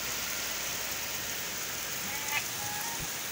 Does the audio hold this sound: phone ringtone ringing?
no